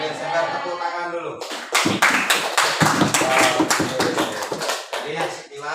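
A classroom of students breaks into applause after a voice briefly speaks, a dense burst of close clapping that carries on steadily for several seconds before thinning out.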